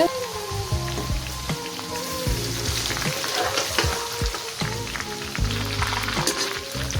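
Cumin seeds and garlic frying in hot oil for kavli chana, heard as a steady, close crackling sizzle with occasional stirring scrapes and no talk.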